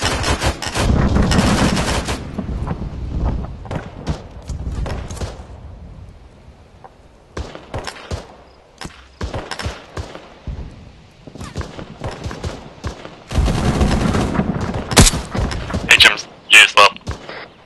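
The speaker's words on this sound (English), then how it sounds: "I'm pretty sure that's a HMG firing upon us." A heavy machine gun fires in Arma 3 in loud, rapid bursts with close and distant shots and thuds. The bursts are broken by pauses and overlap with voices talking over radio.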